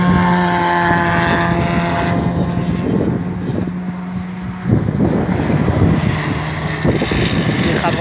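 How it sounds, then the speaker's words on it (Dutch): A Porsche GT3 race car drones steadily at moderate loudness on the Zandvoort track during a trackday, with wind buffeting the microphone, its tone swelling briefly as it passes. "Die gaat wel echt traag, hoor. Die Porsche."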